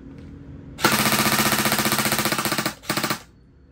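An airsoft gun fires on full auto close up in a fast, even stream of sharp mechanical shots lasting about two seconds, then a brief pause and a short second burst.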